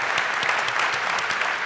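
Office workers clap together across an open floor, a dense, steady burst of many hands at moderate loudness, with no voices over it.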